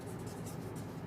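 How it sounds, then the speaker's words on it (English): A pen scratches steadily across a board as factors are written out, a faint continuous rubbing with soft repeated strokes and no speech. "So the factors I will write down."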